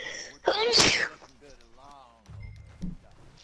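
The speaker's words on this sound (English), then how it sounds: "I keep sneezing." A single loud, sharp sneeze bursts out near the start during a live PS4 game broadcast, followed by talking.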